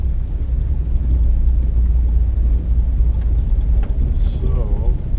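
A 1959 Buick Electra 225 with a 401 Nailhead V8 riding along, its low, steady road and engine rumble filling the cabin throughout, with a brief faint chirp near the end.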